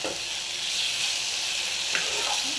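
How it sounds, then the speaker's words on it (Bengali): Potatoes and a spice paste sauté in hot oil with a loud, continuous close sizzle, broken near the end by a few stirring scrapes, with no voices. "ভালো করে কষিয়ে নেবো"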